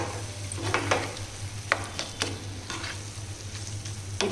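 A large brinjal curry is stirred in a frying pan, with repeated scraping strokes and clinks over a soft sizzle, while a low steady hum runs underneath.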